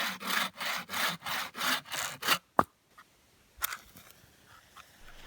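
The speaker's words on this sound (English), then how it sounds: "I make quick work of cutting down and bucking up a dead spruce tree" Handsaw cutting through a dead spruce tree while bucking it up, with eight rhythmic back-and-forth strokes, then a sharp knock and a few quieter scrapes and rustles, close and without talk.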